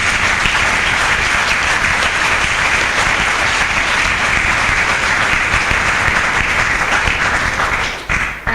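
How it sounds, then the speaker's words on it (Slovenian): An audience breaks into loud, dense applause, a continuous wash of clapping that holds steady before dropping away at the very end. "da mu zaploskamo"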